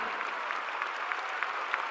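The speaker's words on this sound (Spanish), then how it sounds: "Pido un aplauso de pie" Standing applause from a crowd at a Morena political event, a steady, dense roar of clapping from many people, even and sustained with faint rhythmic pulses and no voices on top.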